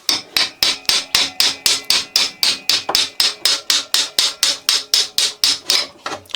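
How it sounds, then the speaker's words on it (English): Hammer striking a screwdriver to knock the rear swing arm bolt out of a Honda CB125F motorcycle, a steady series of about twenty sharp metallic blows at a fast, even rhythm, close and loud, no talk. "now I can just get my hammer and my screwdriver"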